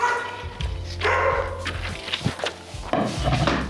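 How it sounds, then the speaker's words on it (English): A dog named Peanut barks nearby during clay work in a home studio, several sharp barks in uneven bursts over background clatter and room noise. "I need to check on what Peanut's barking about."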